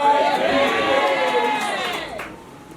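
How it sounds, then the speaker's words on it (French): A church congregation cheers and shouts loudly in praise of the Lord, a dense crowd roar with a voice on top that fades a little toward the end. "On acclame très fort le Seigneur."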